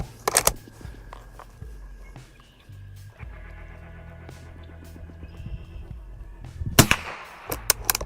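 Rifle shots fired at a target through a 3-9x32mm scope: two sharp loud cracks, one at the start and one near the end, with a fainter pop after, separated by quiet outdoor ambience.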